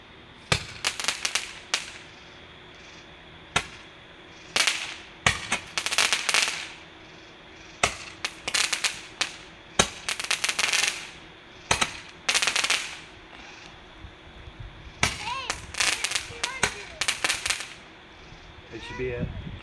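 Roman candle fireworks fire off repeatedly outdoors, a long series of sharp loud pops and cracks in uneven bursts, sometimes two at once, with brief gaps and faint voices between.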